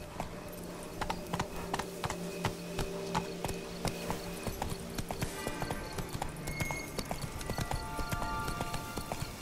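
A horse's hooves clip-clop in a steady, rhythmic gallop across the ground in the video game The Witcher 3: Blood and Wine. Clear and close, continuing throughout without talk.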